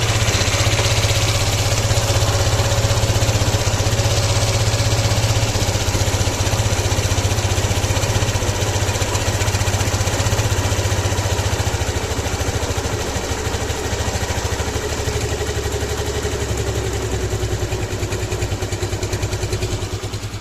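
A Suzuki Access 125 scooter engine idles fast with its RPM raised during carburetor tuning, a steady loud continuous drone with a mechanical clatter that holds throughout with no talking.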